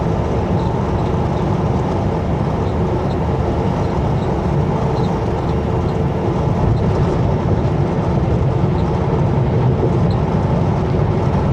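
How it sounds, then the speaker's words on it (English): A fully loaded coal train rolls past alongside the Trans-Canada Highway, a continuous heavy rumble of wheels and cars heard steadily from inside a moving vehicle. "It's a fully loaded coal train going the same direction we are."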